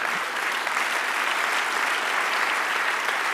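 A church congregation claps loudly and steadily throughout, a dense and sustained round of applause with no one speaking over it.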